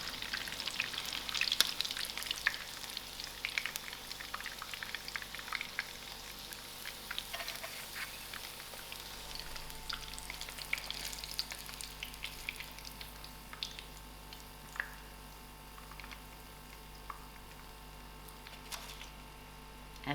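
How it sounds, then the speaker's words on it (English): Masala-coated fish fries in hot oil with a steady, soft sizzle and scattered crackles and pops, continuous and fairly quiet, with no voices. "Let's see how beautiful the fish has fried."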